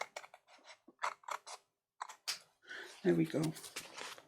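Scissors trimming excess paper off a scrapbook journal page, heard as a few quiet snips and a louder crunchy cut near the end, with a person speaking briefly between them.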